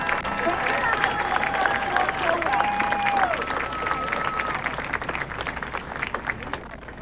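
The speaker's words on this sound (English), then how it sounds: "Please give a round of applause for all of our homecoming nominees." At a high school homecoming ceremony during a football game, a stadium crowd gives a broad, sustained wash of applause and cheering for the nominees, while an announcer speaks over the public address.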